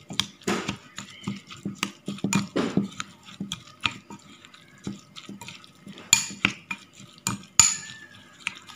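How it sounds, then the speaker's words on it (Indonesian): Spice paste mixed with salt being stirred in a pan for vegetarian Balinese ayam betutu, with irregular scraping and clinking of a utensil against the pan, near and moderately loud, no talking. "Oke, ini kita aduk kembali."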